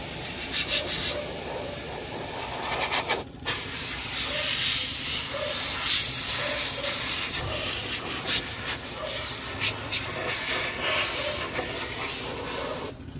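Compressed air blasts a steady, loud hiss over a washed carbureted engine to dry it, with brief breaks in the airflow and faint rhythmic rubbing beneath.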